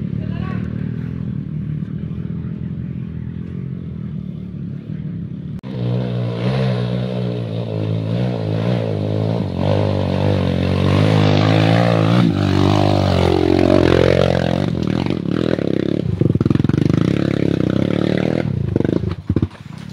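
A trail motorcycle with its stock exhaust runs loud and close throughout, its engine droning and revving with some clatter, while voices speak over it.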